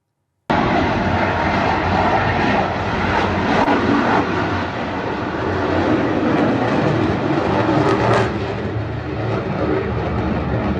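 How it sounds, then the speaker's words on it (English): Turkish F-16 fighter jets taking off in Mogadishu, a loud continuous jet engine roar that holds steady from start to finish with no voices over it. "footage from the Mogadishu, which shows Turkish F-16s taking off"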